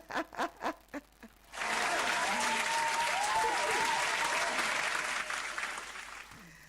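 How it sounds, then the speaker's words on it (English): A few sharp claps, then a burst of steady, dense applause that holds for several seconds before fading slightly. "Let me clap for you."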